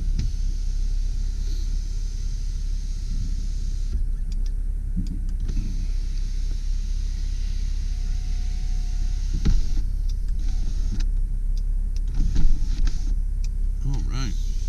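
The electric sunroof of a 2001 Jeep Grand Cherokee Laredo runs its motor in short bursts, each a brief whirring hum heard close inside the cabin over a low steady rumble.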